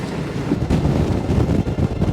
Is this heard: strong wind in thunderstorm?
yes